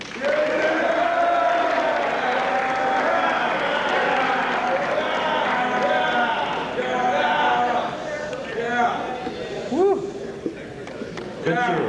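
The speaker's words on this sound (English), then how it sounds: "Good cheering" A large crowd at a Louisiana Boys State / Girls State awards ceremony cheers and applauds steadily, loud and sustained throughout, with the roar thinning slightly toward the end.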